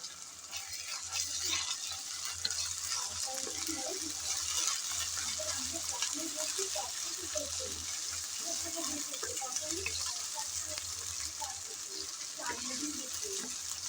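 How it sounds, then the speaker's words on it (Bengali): Ginger-garlic paste frying with onions in a pan for a tomato mutton kosha, a soft continuous sizzle with scattered stirring and bubbling sounds, fairly faint, while a voice speaks quietly at times. "আদা আর রসুন বাটা পেঁয়াজের সাথে ভেজে নিয়েছি, যাতে কাঁচা গন্ধটা চলে যায়"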